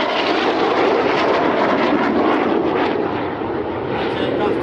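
Red Arrows display jets roar loudly and steadily overhead during an airshow routine at Old Buckenham, a broad sustained engine rush that swells slightly, with an announcer talking over it.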